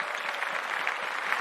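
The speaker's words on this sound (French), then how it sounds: "tu mérites cet applaudissement-là" A burst of crowd applause, steady and dense clapping throughout, slightly thin and canned in tone, with no talking over it.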